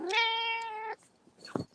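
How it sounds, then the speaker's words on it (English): A cat gives one loud, close meow lasting nearly a second, followed by quieter indistinct household noises and a brief knock near the end. "Is that a cat?"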